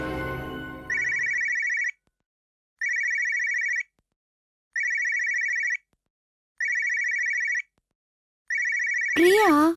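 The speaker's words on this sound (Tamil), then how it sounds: "இப்போ கல்பனா என்ன பண்றேன்னு அம்மாவுக்கு ஃபோன் பண்ணி கேட்போம்." A telephone rings in repeated electronic bursts, five even rings separated by short silences, loud and close, ending in a warbling tone sweep as the call connects, following a short exchange of voices at the start.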